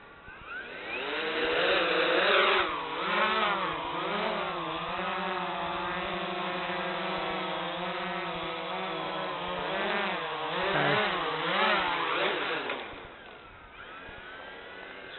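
An XK Detect X380 quadcopter drone hovers nearby, its rotors giving a loud, steady buzzing whine that rises and falls in pitch as the throttle shifts, with no talking.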